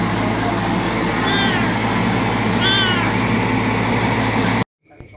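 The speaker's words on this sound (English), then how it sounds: "New shouty cats, so this one's a shouty kitten." A kitten meows loudly twice in a shrill, insistent way over a steady low hum, each cry about a second long, before the sound cuts out abruptly near the end.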